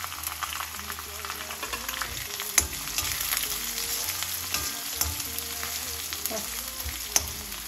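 Chopped onions fry in a pan for a Lucknow-style matar nimona, giving a continuous sizzle with occasional spoon clinks, while background music plays underneath.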